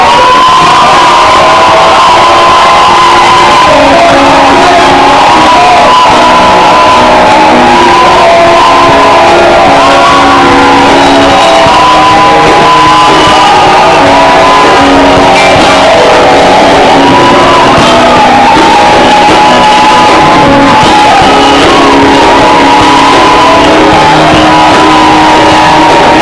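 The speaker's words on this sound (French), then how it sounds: "Est-ce que tu peux, avec moi, pousser les cris de joie?" A large crowd at a church conference session shouts and cheers for joy, loud and continuous, with whoops and children's voices mixed into the roar.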